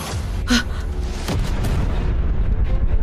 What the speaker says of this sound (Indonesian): Itu suara gudang senjatamu di pinggir kota meledak.